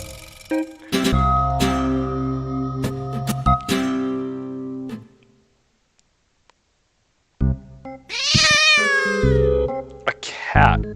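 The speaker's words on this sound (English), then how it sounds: "A cat." A cat in a haunted-manor video game meows loudly several times, its calls mixed with game music tones, then after a silent pause a longer drawn-out caterwaul rises near the end.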